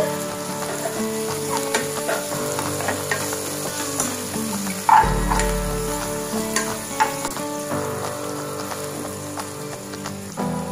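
Thinly chopped tomato and green chillies fry in a pan for an Andhra gongura curry, with close crackling sizzle and stirring clatter, a sharp burst as ingredients go in midway.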